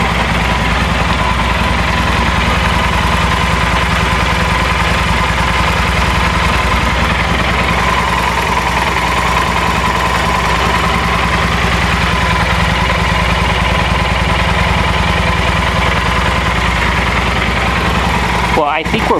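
A 2012 Yamaha Super Tenere motorcycle engine runs at a steady, loud idle after an oil change, with a constant close mechanical drone and no break across the whole stretch.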